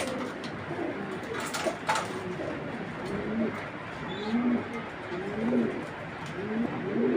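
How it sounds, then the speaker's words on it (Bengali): An Iraqi pigeon, an older breeding bird, gives repeated soft, low coos in a steady rhythm. The coos are close but fairly quiet and sit over a light background hiss with a few brief chirps. "ইরাকের কবুতর"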